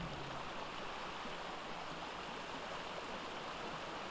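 A small river in the ARK game world flows steadily, a constant broadband rush of running water that stays even throughout, with no voices over it.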